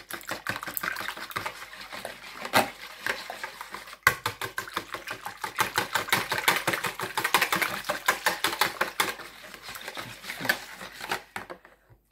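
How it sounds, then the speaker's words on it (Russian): A whisk beats ingredients briskly in a bowl, a fast, steady rattle of wire against the sides that continues for several seconds before stopping abruptly. "Зараз я все зіб'ю вінчиком"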